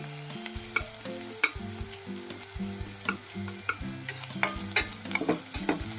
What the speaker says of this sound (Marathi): आता यामध्ये आपण कांदा टाकूया, आता आपण यामध्ये आलं लसूण पेस्ट टाकूया।